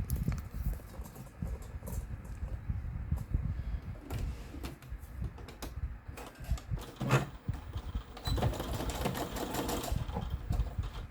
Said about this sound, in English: I did do a couple stitches forward, and then I went back, and now I'm just coming forward again